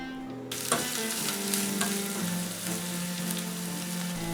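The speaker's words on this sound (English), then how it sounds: "When the oil is hot, add the ginger and the garlic. Stir for 20 seconds." After a brief quiet start, ginger and garlic hit hot oil in a pan and burst into a loud sizzle, and the sputtering carries on steadily while the pieces are stirred.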